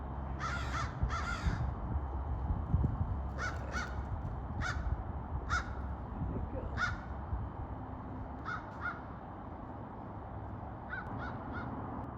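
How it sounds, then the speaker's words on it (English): Several crows fly overhead, cawing repeatedly, harsh calls in short bursts of one or two, spaced through steady outdoor background noise; a voice speaks briefly. "Several crows flying."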